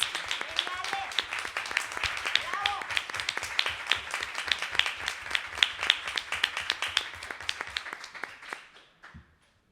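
An audience at a panel discussion applauds steadily with dense, mixed clapping at fairly even loudness, then the applause thins out and fades to near silence at the end.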